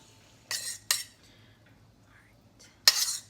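A wooden spoon mixes oats with melted butter and sugar in a bowl: three short, scraping strokes, two close together and one after a quiet gap, heard up close.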